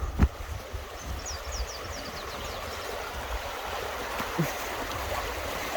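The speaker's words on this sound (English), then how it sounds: "lovely river right next to us" A river flows right beside a campsite, a constant close rush of moving water with a few faint birdlike chirps and a brief knock near the start.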